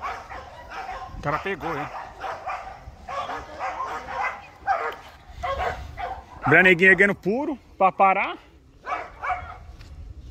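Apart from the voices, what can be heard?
dog barking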